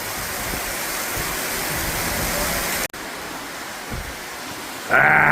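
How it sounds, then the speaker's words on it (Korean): A short, heavy rain shower in the rainy season makes a dense, steady hiss throughout, broken by a brief dropout and followed by a louder burst at the end. "이게 진짜 우기입니다 우기 근데 이렇게 잠깐 오고 금방 그칩니다"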